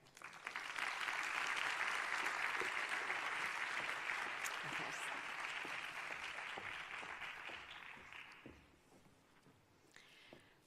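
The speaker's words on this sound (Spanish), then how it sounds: "Pediría a todos que recibiéramos a Alicia pues, con un fuerte aplauso," An audience at a design forum claps in welcome for a speaker, the applause building quickly to a loud sustained roar, then thinning out and fading toward the end, with a few scattered claps trailing off.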